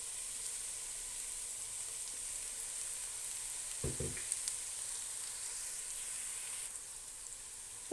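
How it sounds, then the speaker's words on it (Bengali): Oil heats in a frying pan for frying prawns, a faint steady sizzle with a brief louder crackle midway. "ফ্রাই প্যানে তেল দিয়ে দিচ্ছি চিংড়ি মাছ ভাজার জন্য।"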